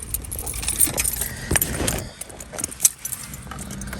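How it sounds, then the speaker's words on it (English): Car keys for a Peugeot 309 jangle and clink close by as they are pulled out, bright metallic rattles in bursts with a sharper chink near the end, no speech. "find my keys, they're there."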